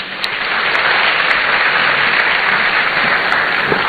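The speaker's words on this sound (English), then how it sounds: "A round of applause for him, ladies and gentlemen." Steady applause from the audience at a university student entrepreneurship programme launch in Ghana, a dense, even patter of many hands clapping at once, sustained and moderately loud with no talk over it.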